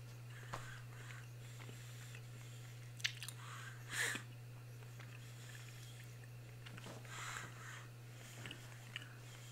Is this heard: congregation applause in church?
no